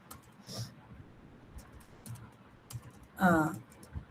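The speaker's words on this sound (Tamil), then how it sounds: "பாருங்க, நான் தமிழ்ல உங்களுக்கு டைப் பண்றேன்." Someone types Tamil text on a computer keyboard: sparse, soft key clicks tap out an uneven rhythm, and a brief voice sounds near the end.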